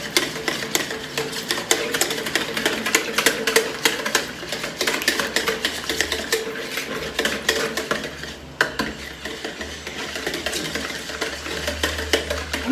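A spoon stirs basbousa batter in a bowl, making a continuous run of quick scraping and clinking strokes against the bowl that keep a busy, uneven rhythm throughout.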